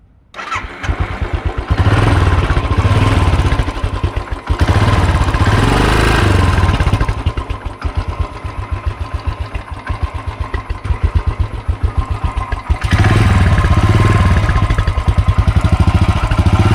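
A Royal Enfield Continental GT 535 motorcycle, just after a major service, cranks and starts, then settles into a loud, steady single-cylinder idle thumping up close, with a short dip and revving before it resumes.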